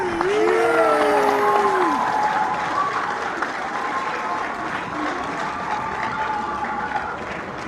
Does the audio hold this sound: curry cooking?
no